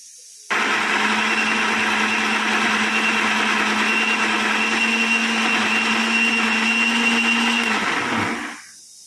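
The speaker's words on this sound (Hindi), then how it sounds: "तो चलिए इसे मिक्सर में पीसते हैं और फिर देखते हैं" A mixer grinder runs steadily, grinding soaked rice and lentils into dosa batter; a loud, continuous motor whir with a grainy churning texture starts abruptly and holds for about eight seconds before winding down, with no talking.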